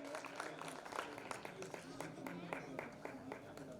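Applause from the audience at a community talent award ceremony, dense steady clapping that runs throughout at a modest, slightly distant level, with some voices mixed in.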